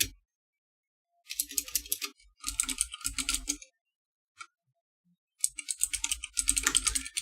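Keystrokes on a computer keyboard during play of a classic adventure game come in quick, close bursts separated by silent gaps, with one lone tap in between.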